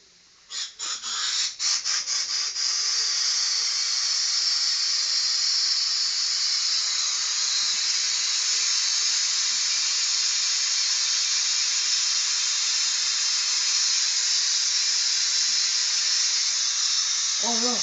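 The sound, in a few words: inflating an old bicycle inner tube, air hissing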